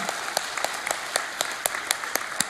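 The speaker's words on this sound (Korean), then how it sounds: "우리 하나님께 큰 박수로 영광 돌리겠습니다" A church congregation applauds during a year-end Sunday service: fairly faint, sparse claps with distinct individual hand strikes over a soft wash, brief, with a little voice in the background.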